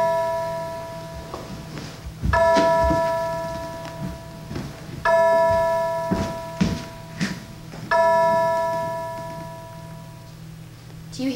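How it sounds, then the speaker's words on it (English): Church bells of the First Congregational Church ring in three loud, resonant strikes spaced a few seconds apart, each leaving a long sustained hum that fades, with fainter knocks and clatter between them. "Do you hear those bells?"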